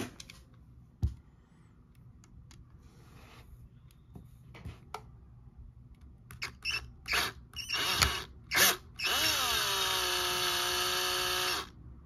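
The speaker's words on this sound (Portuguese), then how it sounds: "É, vou ter que usar parafusadeira, não vai ter como." An electric screwdriver backs a screw out of a Mini GT Datsun 510 Wagon model car, with several short bursts followed by a sustained whirring run of about two seconds, close up and alone.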